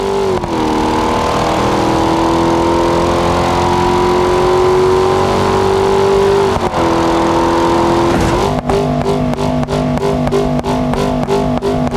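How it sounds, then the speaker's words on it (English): Lamborghini Urus engine in a car stunt video game, a loud, sustained droning rev that climbs in pitch, drops abruptly, then settles into a pulsing, stuttering roar. "Lamborghini Urus."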